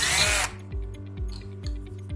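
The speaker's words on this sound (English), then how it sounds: "Punch a hole in a binder clip." A power drill whirs loudly and close as it punches a hole through a metal binder clip, followed by a quieter rhythmic pulsing of the motor.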